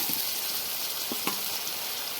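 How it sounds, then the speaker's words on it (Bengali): Fried potatoes tip into a hot pan of sizzling oil while cooking wild mushroom chhatu curry, a steady frying hiss with a brief louder crackle burst midway, close and alone. "ভেজে রাখা আলু দিয়ে দিচ্ছি"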